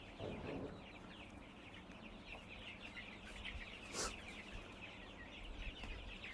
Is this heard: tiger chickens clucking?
yes